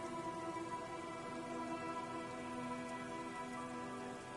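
Steady rain hisses in Disco Elysium, a soft, even downpour with no breaks, heard alone and fairly quiet.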